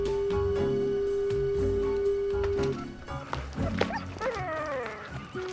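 A dog barks and yips in quick bursts, then breaks into whimpering whines toward the end, close and fairly loud over a steady background tone.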